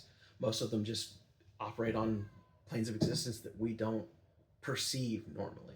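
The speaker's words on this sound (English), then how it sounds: "if you hear meowing, it's because we have little kittens and they are very upset that I have my door shut" Small kittens meow insistently behind a shut door, loud repeated pitched cries in bursts while someone talks over them.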